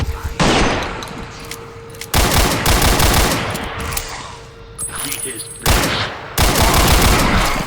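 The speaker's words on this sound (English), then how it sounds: "so that's the rapid fire you can do" Rapid-fire gunshots in the video game Ashes: Afterglow, loud bursts of quick repeated shots that come in several clusters separated by brief pauses, with a steady tone and occasional thuds between the volleys.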